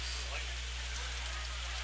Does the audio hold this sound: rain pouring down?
yes